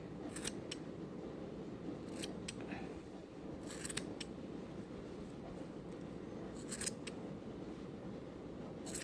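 Scissors trim stray long strands from a yarn pom-pom, with quick close snips in small bursts of two or three cuts separated by short pauses, over a quiet room background.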